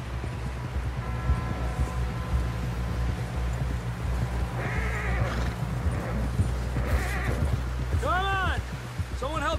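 A horse in Red Dead Redemption 2 clip-clops along at pace and lets out several high neighs toward the end, close and clear over a steady low game rumble, with voices talking.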